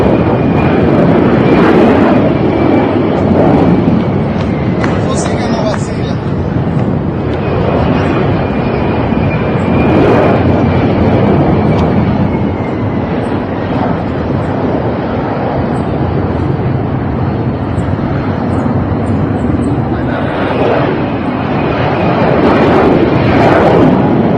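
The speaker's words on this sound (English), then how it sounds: "This is F-35s now landing at what used to be a military air base." Jet aircraft roar continuously at a former military air base where F-35 fighter jets are landing, a loud, broad rushing drone with wind buffeting and a rising and falling intensity throughout.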